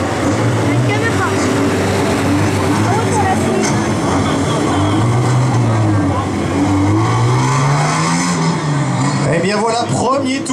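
A rally car at the 2015 Falken show of the Rallye de Wallonie roars loud and close, its engine pitch climbing and dropping through gear changes and revs without a break.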